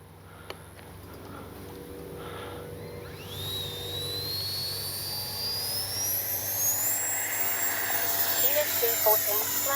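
An E-flite 64mm Viper RC jet with a ducted fan takes off, its thin whine rising steadily in pitch and growing louder, over outdoor background noise with a voice talking faintly early on.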